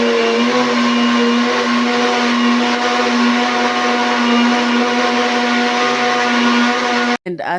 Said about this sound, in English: Have to check if it's have blended well.